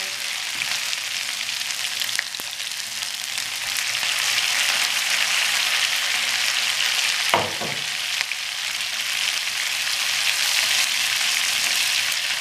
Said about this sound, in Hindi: तकरीबन 1 टेबलस्पून ज़ीरा, ये डाल देंगे। हम इसको सिर्फ थोड़ा सा फ्राई करेंगे।